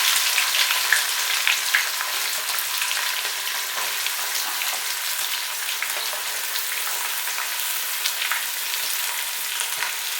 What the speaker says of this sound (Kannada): ಈಗ ಈರುಳ್ಳಿಯನ್ನು ಹಾಕ್ತಾಯಿದ್ದೀವಿ.